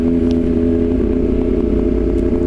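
A 2024 Kawasaki ZX-6R motorcycle engine with a loud, open exhaust rumbles steadily up close, a deep continuous drone with no talking.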